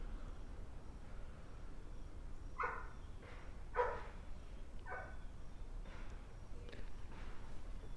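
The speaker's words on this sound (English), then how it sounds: "Shush. No barks." A dog barks several times in short bursts at moderate distance, the barks spaced irregularly over a steady background hiss.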